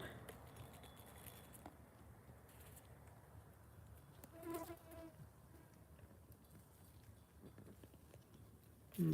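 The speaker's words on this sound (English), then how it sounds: "Mosquito on my nose." A mosquito whines close by at night near outdoor moth-survey lights in New Brunswick, Canada, a thin continuous buzz over soft background noise, swelling briefly midway and near the end.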